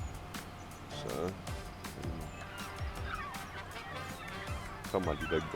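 Gulls call repeatedly over a farm in harsh, ringing cries that rise and overlap. Steady background noise runs underneath, and voices can be heard talking.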